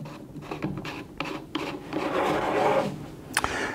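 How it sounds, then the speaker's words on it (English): A nut is threaded onto a Kraus sink strainer, giving close, dry scraping and rubbing with short irregular bursts, a rising grind midway and a sharp click near the end. "we're going to screw this right on to the end of the strainer itself"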